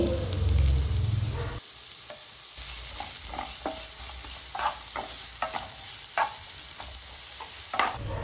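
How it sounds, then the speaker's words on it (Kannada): Garlic, green chillies, ginger and sliced onion stir-fried on a high flame for vegetable Hakka noodles: a loud initial burst settles into a constant hiss, with repeated close clinks and scrapes of stirring. "1 ಮೀಡಿಯಮ್ ಸೈಜ್ ನೀರುಳ್ಳಿ ಉದ್ದನೆ ಕಟ್ ಮಾಡಿ ಹಾಕಿ ಹೈ ಫ್ಲೇಮಲ್ಲಿ 2 ನಿಮಿಷ ಫ್ರೈ ಮಾಡ್ತೀನಿ."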